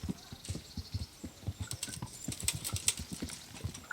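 Quick, light horse hoofbeats clip-clop in a steady trotting rhythm in the video game Kingdom Come Deliverance, fairly soft, with a faint background hum.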